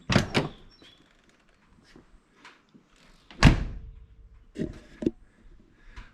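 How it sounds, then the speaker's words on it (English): Several solid thunks of a 1972 Mercedes-Benz 280SE 4.5 (W108) door closing, one heavy, deep slam in the middle and lighter shuts and clicks around it, close by with no talking. "in typical Mercedes fashion, especially this era, the door is just shut beautifully."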